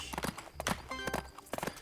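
Horse hooves clop in a quick, uneven rhythm as a horse moves in the video game Adventures with Horses, moderately near and fairly faint.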